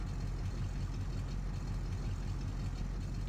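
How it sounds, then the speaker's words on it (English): A truck engine idles steadily after starting, a low, continuous rumble that stays even and fairly quiet with no talking. "start the truck up"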